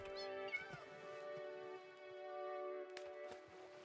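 Several cats meow in a Minecraft game world, a string of tonal mews at steady level running through most of the stretch with no talk.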